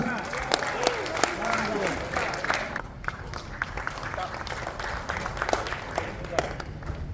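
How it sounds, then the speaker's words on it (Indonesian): Audience applause in a meeting hall at a Papuan political gathering, a steady wash of clapping running several seconds and thinning toward the end, with voices underneath. "Boleh tepuk tangan dulu."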